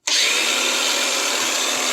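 A BAUER 20V cordless 4-1/2 in angle grinder starts abruptly and runs at a steady, loud high-pitched whine for the full two seconds, with no voices over it.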